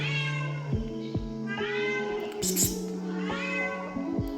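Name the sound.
cat meowing angrily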